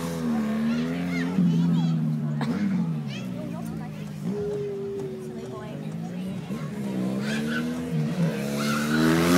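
A stunt rider's trial motorcycle skids and revs at a Northwest 200 stunt show, with tyre squeal and a wavering engine note over an announcer speaking on a public address system.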